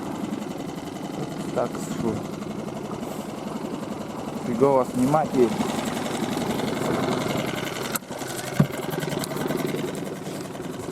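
A boat motor runs steadily on a high-water taiga river with log jams, a mid-pitched droning hum heard under someone talking close by, with a few knocks and clatters.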